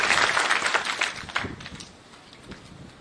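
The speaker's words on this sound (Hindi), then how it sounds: "एक बार जोरदार तालियां डॉक्टर गुंजन गर्ग।" At a state-level Hindi Day award ceremony in a medical college hall, an audience breaks into loud, dense clapping for an award recipient, then thins and fades to scattered claps within about three seconds.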